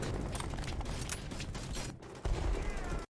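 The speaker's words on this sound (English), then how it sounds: "You can see artillery strikes are now in game." Loud, dense barrage of booming explosions and gunfire from artillery strikes in the Hell Let Loose World War II shooter game, continuous rumbling impacts with a sharper burst near the end, then cut off.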